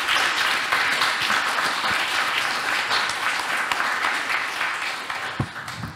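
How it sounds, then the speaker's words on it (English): A conference audience applauds panelists in a sustained, dense round of clapping that stays steady for several seconds before thinning slightly toward the end. "let us hear a round of applause once again for our wonderful panelists"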